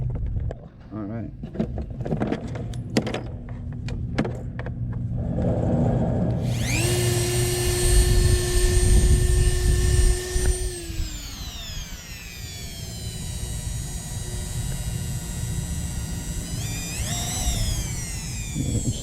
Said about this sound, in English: Now we're going to plug in the Dremel.